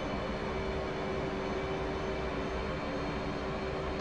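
A steady, loud F/A-18C jet engine roar inside the DCS flight simulator during air-to-air refueling, a constant dense whine and rumble with a faint tonal hum and no variation.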